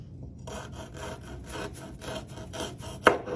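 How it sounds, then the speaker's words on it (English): A kids knife saws back and forth through a carrot, giving a series of rhythmic rasping strokes up close, ending in a sharper snap as the cut finishes. "it works by using a sawing motion. So you just need to saw back and forth"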